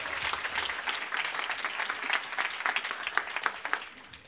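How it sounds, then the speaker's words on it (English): A forum audience breaks into applause, dense crisp clapping from many hands that swells and holds for about four seconds, fairly close and with no voices over it. "let's just give him a round of applause for that"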